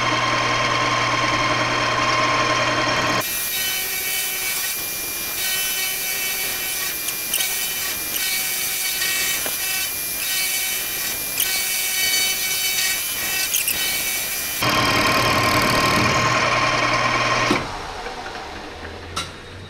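A metal lathe cuts steadily under feed, a continuous bright whirring drone with scraping overtones running for several seconds, then easing back to the quieter motor hum before trailing off; no talking.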